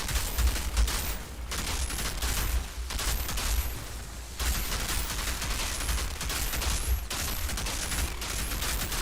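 Dense, sustained gunfire from the looter-shooter game Outriders, rapid overlapping shots and bursts rattling almost nonstop, loud and close, with brief lulls between volleys and no talking.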